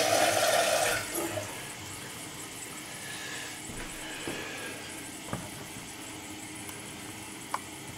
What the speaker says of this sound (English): trip this to start filling up again, and then we're going to watch where it fills to